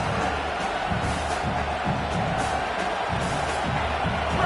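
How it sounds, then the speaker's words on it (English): A home crowd at a football game cheers and roars, a loud, steady wash of distant voices with no single standout shout. "this home crowd getting involved right from the start"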